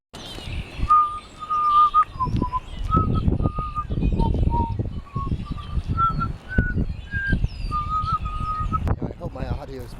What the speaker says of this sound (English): all around us there are red-winged blackbirds, and they're one of the most melodious songbirds that we have in this area